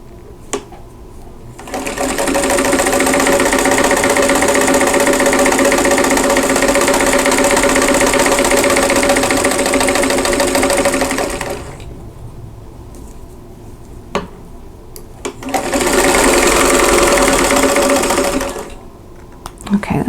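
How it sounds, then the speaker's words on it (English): A sewing machine stitches fabric along a drawn line in two sustained runs, a long burst and then a shorter one, with quiet pauses between. "I'm going to sew from the center top to the right side, the center of the right side, right on that drawn line this time."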